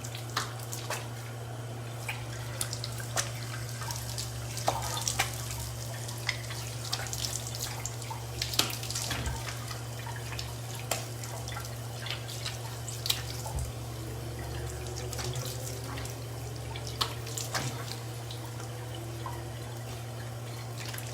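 Tap water runs steadily into a sink while a freshly washed face is rinsed. A continuous splashing stream is broken by irregular drips and slaps of water, with no one speaking.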